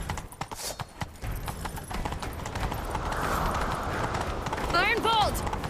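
Horse hooves clip-clop at a gallop in The Witcher 3, steady and close, with voices talking over them and a horse's whinny near the end.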